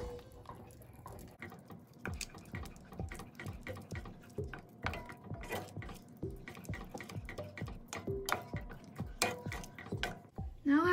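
Gravy being stirred into a pan for spicy pasta, giving a steady run of scraping, clinking utensil strokes against the pan with small wet drips, close and fairly quiet, with no talking.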